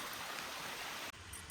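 Creek water rushing steadily at a trail crossing on the Gold Mine Trail, a dense, broadband hiss of flowing water heard close, continuous until an abrupt cut near the end.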